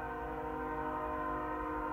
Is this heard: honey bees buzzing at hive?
no